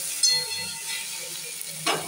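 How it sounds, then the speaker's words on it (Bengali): Potatoes and vegetables fry in a pan, a soft steady sizzle with light scraping from a spatula and a louder stir near the end, close and alone. "5 মিনিট ভাজবো। আমার সবজিটা ভাজা হয়ে গেছে।"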